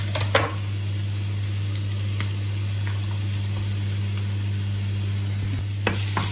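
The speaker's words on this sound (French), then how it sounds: "je fais revenir un peu l'ail dans l'huile d'olive" Garlic sizzles in olive oil in a pan while being stirred, a soft steady frying hiss over a low hum, with a few scraping stirs near the start and end.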